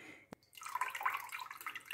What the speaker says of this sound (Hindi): देखिए कितना पानी निकल रहा है इसमें से।